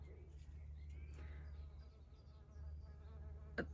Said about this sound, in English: The bees are loving the foxgloves in here.